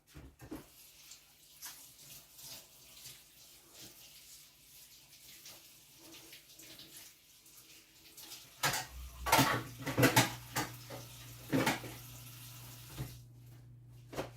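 Tap water runs into a sink as a pepper is rinsed in a country kitchen, with splashing and clatter growing louder partway through, then the flow stops near the end.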